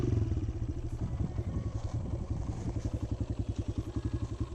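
A 2018 Kawasaki KLX140L pit bike engine idles nearby with a steady, rapid single-cylinder putter and light mechanical clatter, fairly quiet and even.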